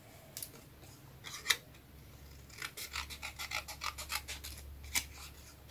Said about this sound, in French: on découpe tout ça. On va prendre notre ciseau.